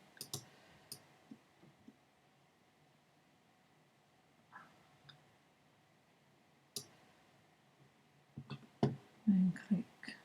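Sparse, faint clicks of a computer mouse in a quiet room, scattered single taps with a tight cluster of louder clicks near the end.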